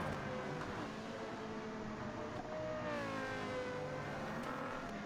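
Lexus LFA engine in Gran Turismo 7, a high-revving Formula One-like V10 tuned for sound, whirring and rising in pitch with smooth revving swells, heard alone and moderately quiet.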